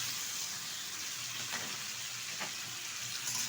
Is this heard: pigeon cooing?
no